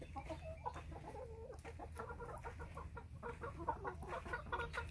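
Hens cluck and murmur continuously in an enclosure, several birds overlapping at close range with a steady low background rumble.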